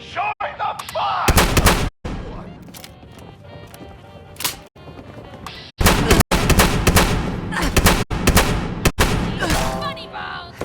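Gunfire in the video game Fallout 76, loud sharp shots and bursts in irregular clusters with booming blasts between them, and a voice speaking in the background.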